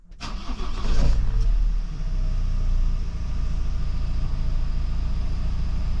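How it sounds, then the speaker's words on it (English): A van engine cranks and catches with a loud surge, then settles into a steady, close-up idling rumble for several seconds. "now hopefully when Rose starts the engine we should be receiving some charge on the screen here."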